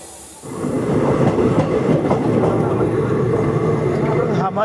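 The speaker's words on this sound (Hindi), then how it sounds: "हमारी ट्रेन यहाँ पे किसी पैसेंजर ट्रेन को ओवरटेक कर रही है" The Vasco da Gama Tirupati Express rumbles past a passenger train it is overtaking, a steady loud roar of wheels and carriages close by, with a brief rise at the start and no clear speech.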